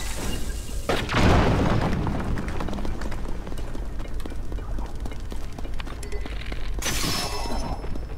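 A bomb blast in Zelda: Tears of the Kingdom, a sudden loud boom followed by crashing debris over steady game ambience, with a second burst near the end.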